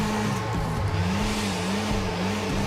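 A video game car engine in GTA IV drones at full throttle, sustained high revs, steady and loud with slight pitch wobbles, sounding thin and strained throughout.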